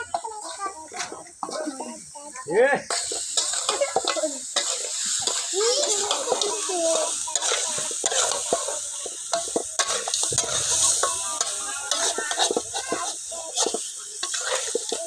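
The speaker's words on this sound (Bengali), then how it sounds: "একটু নেড়ে দিই।" Duck curry with potato stirred in a hot frying pan, sizzling steadily with a spoon scraping in repeated strokes, close up, while a person talks over it.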